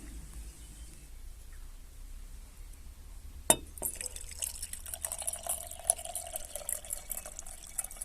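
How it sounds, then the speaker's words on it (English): Water poured from above into a bottle holding stones, a sudden splash onset followed by steady trickling and faint glassy clinks, close and fairly quiet with no talking. "now I'm just going to pour water over it"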